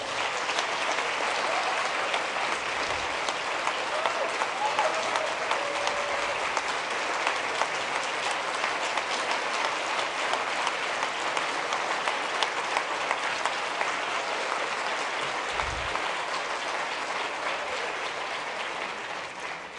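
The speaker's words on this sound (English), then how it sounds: "deserve a round of applause as well." A large audience at an honors ceremony gives sustained, even applause for the honorees, a dense wash of clapping lasting about twenty seconds, close and steady with a gentle fade near the end and no speech.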